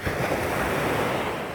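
Sea waves wash onto the shore in October, a continuous close roar of surf with wind noise on the microphone and no voices.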